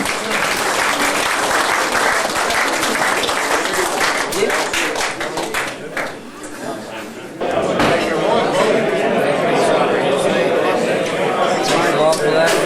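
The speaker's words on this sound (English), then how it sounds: "I think everybody should give yourself a clap because well done North Coast Mental League" A crowd at a men of league dinner in Nambucca Heads applauds loudly with dense clapping, dips briefly mid-way, then swells again into sustained applause with some cheering.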